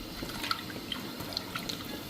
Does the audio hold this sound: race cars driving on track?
no